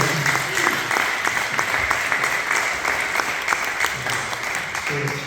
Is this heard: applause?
yes